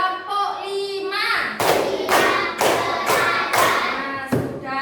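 Classroom group clapping in a rhythm ice-breaker game: five loud, evenly spaced hand claps follow a spoken cue, with voices before and a trailing final clap.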